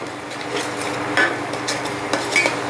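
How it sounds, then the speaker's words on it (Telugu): Turmeric, chili powder and salt being stirred into a pan of frying ingredients, a close scraping and clinking of a spoon against metal over a soft sizzle, with a few sharper knocks. "1/2 స్పూన్ పసుపు, 1 స్పూను కారం, 1 అర స్పూన్ సాల్టు వేసుకొని కలుపుకోవాలి."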